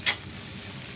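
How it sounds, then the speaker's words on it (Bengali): Jackfruit seeds, onion, prawns and spices sauté together in an oil-free pan, a brief bright scrape at the start followed by a low, steady sizzle with no voices. "কাঁঠালের বিচি, পেঁয়াজ, চিংড়ি মাছ সব ময় মশলা একসাথে নিয়ে আমি কষাচ্ছি।"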